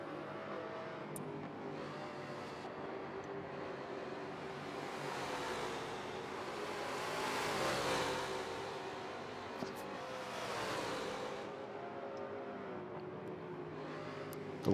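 Trans Am race cars roar around Sonoma Raceway in a racing video game, a steady engine drone swelling twice as the pack sweeps past, with no talk.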